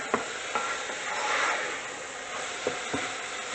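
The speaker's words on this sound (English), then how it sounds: "You don't want your garlic to burn, so just keep it moving in there." Garlic sizzling in an Instant Pot while being stirred, a steady close frying hiss with a few light utensil scrapes and taps against the pot.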